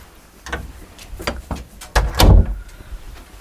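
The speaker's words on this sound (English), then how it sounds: "close my door" A house door swings shut with a firm thud near the mic, preceded by a few lighter knocks and rattles as a dog is let out.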